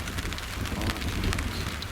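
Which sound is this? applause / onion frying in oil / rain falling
rain falling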